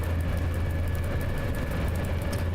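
Electric locomotive, an EP09, running in the SimRail railway simulator: a steady low rumble and drone with faint high whine, constant and even throughout, no talking.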